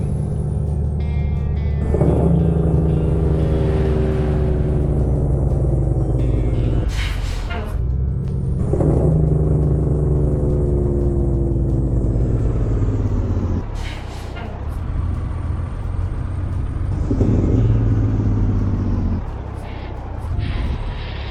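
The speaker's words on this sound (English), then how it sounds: "This truck sounds so good." A heavy Peterbilt 389 truck engine in American Truck Simulator rumbles steadily with gear changes and sharp hissing air-brake bursts every few seconds, loud and close.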